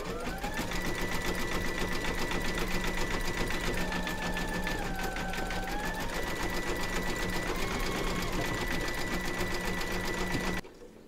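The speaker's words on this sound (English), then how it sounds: "stitch round number 11, and that's going to zigzag the raw edges" An embroidery machine zigzag stitches raw fabric edges in white thread, a fast, even mechanical rattle with a steady motor whine that shifts pitch slightly, continuing without pause until it stops at the very end.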